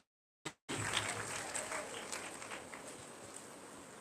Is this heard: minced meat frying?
no